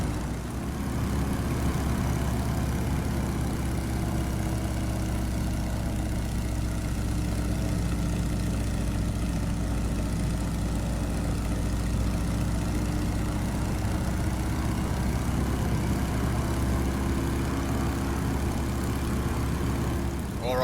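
Steady, full drone of a PT-17 Stearman biplane's radial engine in Microsoft Flight Simulator, a continuous loud low hum with a buzzing overtone that holds evenly throughout while the aircraft heads in on landing approach, with no talk.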